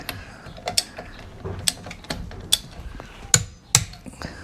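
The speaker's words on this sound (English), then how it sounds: "let's check these for torque" A torque wrench tightens car wheel nuts, a series of sharp metallic ratchet clicks and clacks at irregular intervals, close and fairly loud, with no talking.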